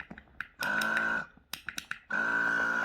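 A small, cheap Chinese-made electric water pump used to fill a fishing bait bucket runs in two steady bursts, a sustained mechanical whine broken by a stretch of clicks and taps.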